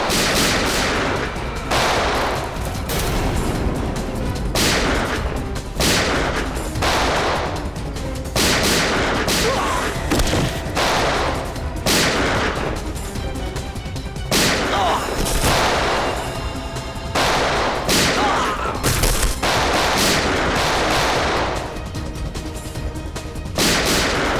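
In a Hindi TV crime drama, armed men open fire on the CID officers. Loud gunshots and volleys crack repeatedly over a dense, busy soundtrack, with brief bursts of voices in between.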